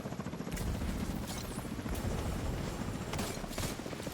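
Extraction helicopter in The Division 2 with a steady, loud rotor drone and chopping thrum throughout, overlaid by bursts of gunfire in a firefight.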